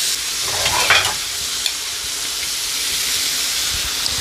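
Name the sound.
fish frying in oil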